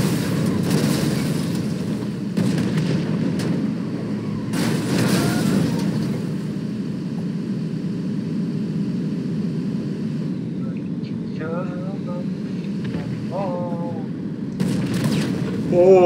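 Booming tank cannon blasts and explosions in GTA 5 recur over a constant engine rumble, with a few short electronic chirps in between.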